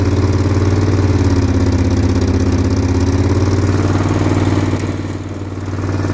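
A backhoe's engine runs loud and close with a steady, throbbing clatter while a hydraulic cylinder is shifted through a selector valve; the pitch strains briefly under load early on, then the level dips slightly near the end.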